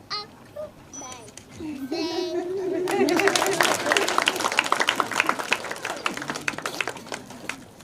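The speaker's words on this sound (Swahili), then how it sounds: "Let us appreciate them with a happy clap for the wonderful presentation." An audience at a school early-childhood digital learning launch in Makueni claps for a children's presentation. A voice and brief chatter come first, then a building burst of lively, uneven clapping with scattered voices.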